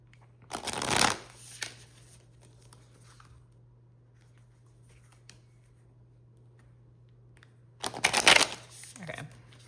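Tarot cards are shuffled in two quick, close, loud bursts of riffling separated by several seconds of near silence with a faint steady hum.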